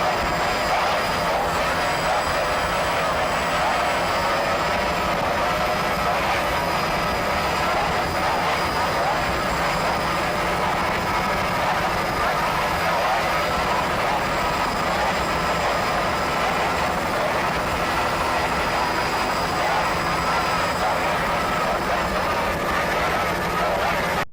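A racing powerboat in the stock class at the Key West world championship, 1994, runs as a continuous loud engine roar with throttle shifts for the full stretch, under broad wind and water noise.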